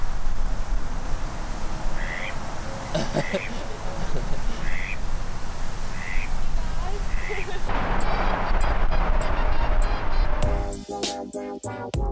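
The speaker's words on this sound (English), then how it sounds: "Look at that mallard." A mallard duck gives a series of short quacks at a steady pace under continuous loud background noise, with talk nearby and the scene changing to a busier clattering setting near the end.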